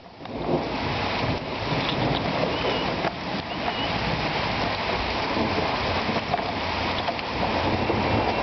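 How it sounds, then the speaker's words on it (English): Thunder rolling during a hailstorm in Huancayo, Peru, heard as a low rumble under a dense, continuous roar of hail and rain hitting the ground and surfaces. "You can hear the thunder."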